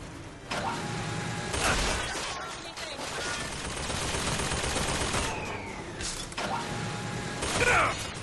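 Gunfire in Bioshock Infinite: Burial at Sea striking a wall, bursts of rapid shots with mechanical clanks and impacts, loud and close, with brief game tones between volleys.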